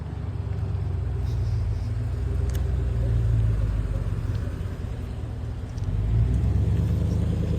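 Street traffic at rush hour in Cherry Hills Village, with cars rumbling past at a residential corner and engine noise swelling and easing as vehicles go by, moderately close and continuous.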